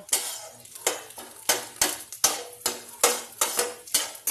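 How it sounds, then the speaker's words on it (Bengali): Eggs fry in a kadai for an egg Maggi dish while a spatula scrapes and stirs in a brisk, regular rhythm of close strokes over a light sizzle. "একটু ভাজা ভাজা হয়ে ফুলবে ডিমগুলো"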